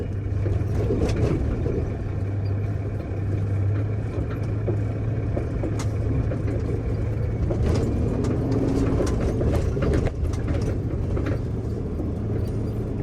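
A logging truck rolls downhill on a steep, rough road with its brakes on, giving a steady, loud engine rumble with rattles and knocks throughout, heard close from inside and with no speech.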